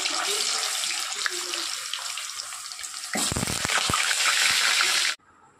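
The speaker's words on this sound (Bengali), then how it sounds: "এবার তেলের মধ্যে আলুগুলোকে দিয়ে দেব। তেলটা গরম হয়ে গেছে।" Potatoes dropped into hot oil in a wok set off a loud, steady hiss and sizzle, with a sharper burst of crackling partway through before the sound cuts off abruptly near the end.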